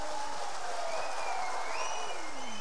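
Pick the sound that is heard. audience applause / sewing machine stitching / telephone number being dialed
audience applause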